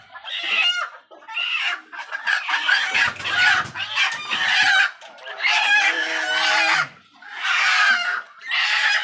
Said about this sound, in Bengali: কান সব ঝালাপালা করে দিচ্ছে মুরগিতে